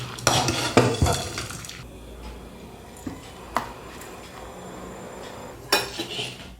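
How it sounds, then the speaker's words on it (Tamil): Sautéed herbal ingredients for a Tamil herb curry are scraped and tipped into a mixer jar, giving a few clinks and scrapes of utensils and dishes at the start, isolated taps in the middle and a final clatter, with no talking. "இப்போ இதை ஜாருக்கு மாற்றிக்கலாம்."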